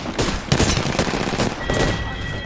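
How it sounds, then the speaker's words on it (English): Rapid gunfire in the video game Apex Legends, several loud overlapping bursts of automatic shots crackling close by in quick succession, with no talk over them. "I'm already being shot at."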